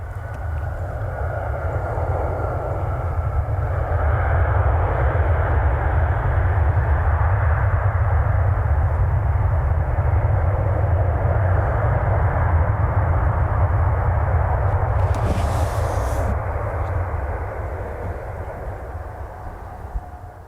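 Delta Boeing 737-800 airliner flying past, a broad steady jet roar that swells and holds loud for most of the stretch before easing away toward the end, with no talking.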